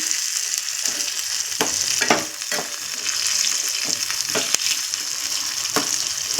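Steady, crackling sizzle of eggplant chutney ingredients frying in a pan, with occasional sharper pops and stirring scrapes throughout; no voices.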